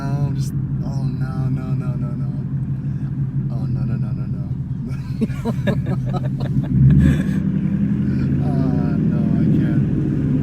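A 2018 Mustang GT making 470 wheel horsepower rumbles steadily and loudly through a test drive, a deep continuous drone with a brief swell, while people talk and exclaim excitedly over it.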